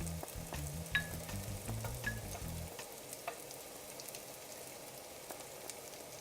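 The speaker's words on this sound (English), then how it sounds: "once the onions have been cooking for a little, we're gonna add in our garlic" Onions cooking in a pan for vegan mac and cheese, a soft steady sizzle with scattered pops and a few light stirring clicks, while quiet music fades out early.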